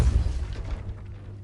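A Depulso spell cast in Hogwarts Legacy lands as a deep, heavy boom at the start, then fades into a rumbling tail over about a second.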